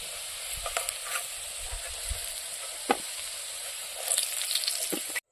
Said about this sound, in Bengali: আলুগুলো কিন্তু ভেজে নিলাম